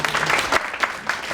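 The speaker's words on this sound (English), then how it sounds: "you can clap that up" An audience at a speaker series talk claps in sustained, dense applause that holds at a steady loud level, with no voices over it.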